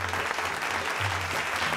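A studio hall audience claps steadily, with even, sustained applause and faint low murmurs beneath it.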